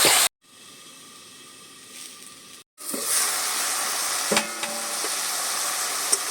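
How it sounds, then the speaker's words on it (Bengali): Taro stolons (kochur loti) being stirred and sautéed in a pan give a close, steady sizzle broken by two brief silent gaps, with a few scraping stirs partway through. "এবারে সুন্দর করে আবারও একটু নেড়ে চেড়ে কষিয়ে নেব।"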